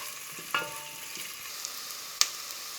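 Cumin seeds frying in a pan, a quiet steady sizzle broken by a couple of sharp spoon taps against the pan, no talk.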